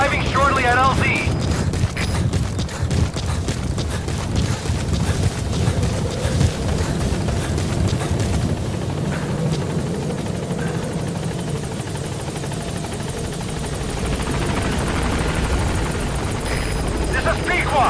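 The Pequod helicopter from Metal Gear Solid V arrives at a landing zone with a steady, loud rotor drone throughout, plus occasional rumbling booms in the background.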